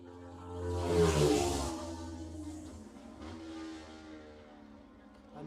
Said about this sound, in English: That sounds nice. That Yamaha when it goes through.